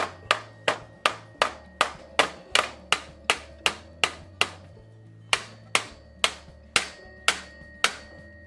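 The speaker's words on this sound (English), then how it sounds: "I actually managed to dent the handlebar when I hit it with the nylon hammer" A nylon hammer strikes a Gazelle Solide bicycle handlebar in about twenty sharp, evenly spaced knocks, with a short pause midway. The blows are close, crisp and ringing, and no one speaks.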